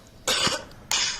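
Two sharp, close coughs from one person, the first rough and slightly drawn out, the second a single harsh burst after a short pause.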